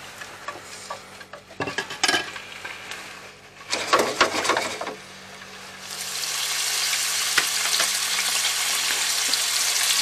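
Shrimp frying in hot oil for a chilled oriental shrimp salad, with a few clinks and stirring knocks early on before a loud, steady sizzle takes over and holds.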